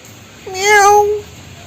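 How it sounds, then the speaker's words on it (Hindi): One drawn-out meow rising and falling over a faint background hiss, clear and fairly close. "ये वहीं से म्याऊं म्याऊं करता है"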